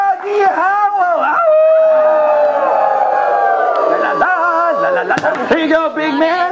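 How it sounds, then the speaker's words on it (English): A Renaissance festival crowd howls like wolves in response to a performer, with loud, rising and falling overlapping voices, plus scattered cheers and a sharp slap near the end. "make some noise for the Big Bad Wolf. Oh yeah! Everybody howl!"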